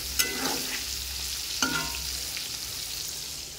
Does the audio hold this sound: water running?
no